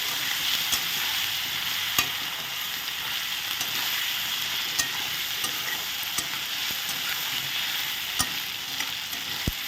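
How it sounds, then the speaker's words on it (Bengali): Onions frying in a pan for an egg curry, a steady bright sizzle and hiss close by, with occasional sharp pops and light stirring clicks scattered through. "এখন পেঁয়াজটা ভালো করে একটু ভেজে নিচ্ছি"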